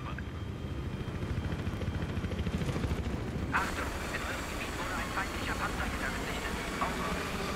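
A helicopter in Battlefield 3 multiplayer thrums steadily with a pulsing rotor chop, while someone talks over the continuous engine drone and faint distant gunfire crackles.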